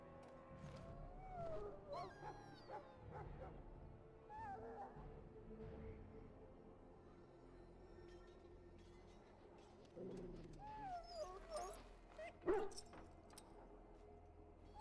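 A hurt dog in Dragon Age: Origins gives faint whimpers and whines in scattered bursts, quiet and close, with soft rustling and ambient sounds between them and no talking.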